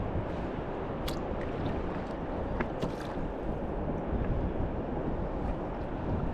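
Ocean waves and wind buffet a kayak, a dense broadband rush with occasional splashes and gusts against the microphone, steady and fairly loud, no voices.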